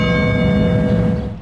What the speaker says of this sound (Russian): Учебный день в православной школе начинается с колокольного звона.